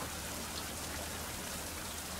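Steady rain falling in the survival video game Fountain of Youth, a dense even hiss of drops on surfaces with no pauses and no voices.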